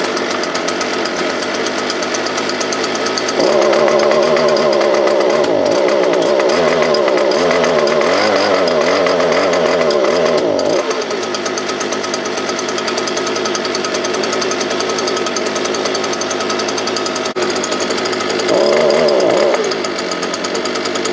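A Stihl BG86 leaf blower's two-stroke engine, freshly fitted with a new carburetor and ignition coil and struggling to rev properly, drones loudly and steadily, surging into a long strained rev midway and a brief one near the end.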